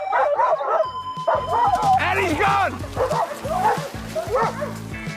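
Euro hound sled-type dogs bark, yip and whine excitedly at the start of a bikejoring race, a continuous close chorus of overlapping barks with a person speaking over the din.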